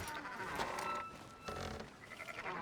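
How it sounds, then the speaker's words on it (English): Sheep bleating in the video game Red Dead Redemption 2, a couple of wavering animal calls rising over a busy game soundscape, fairly close and steady throughout. "Fine sheep."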